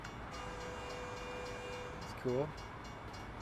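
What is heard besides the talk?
train passing through town in American Truck Simulator video game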